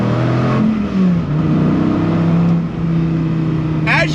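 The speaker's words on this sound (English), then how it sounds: "I am short shifting a little bit because of just being respectful of this car" Dodge Viper ACR engine pulling hard through the gears, a loud, near roar that climbs in pitch, dips briefly at each short shift around the one-second mark, then rises again, continuous throughout.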